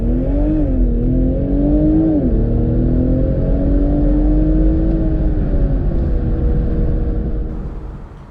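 A 2019 BMW Z4 M40i launches hard from a standstill, its loud engine note climbing through the gears with short dips at each shift, steady and close, then fading at the end.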